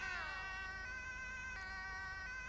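A siren wails steadily from an emergency vehicle close by, its rising and falling tone holding loud and unbroken over a low rumble of engine and traffic.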